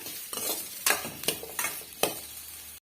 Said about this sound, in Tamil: இது போல இடைவிடாத மிக்ஸ் பண்ணி கொடுத்துட்டே இருக்கும் போதுதான் எல்லா சைடும் ஈவனா நல்லா வந்து வெந்து வரும்